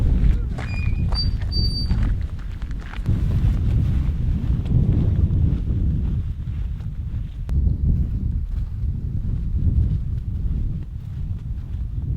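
Wind blowing on a cold mountain hiking trail, a steady loud buffeting roar across the microphone with gusty swells and a few faint knocks and rustles.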